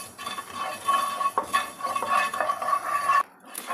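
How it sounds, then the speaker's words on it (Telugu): Fenugreek seeds are stirred while dry-roasting in a kadai, a close, continuous scraping and rattling of a spoon against the metal pan with soft clinks and a faint sizzle, no voices. "ఇట్లా మంచి కలర్ వచ్చే వరకు వేయించుకోవాలి మెంతులు."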